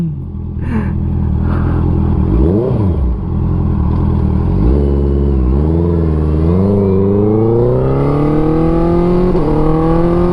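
A modified Honda CB650F with a quickshifter blips its engine up and down, then accelerates hard through several gears. The loud, close engine note rises repeatedly over steady wind noise.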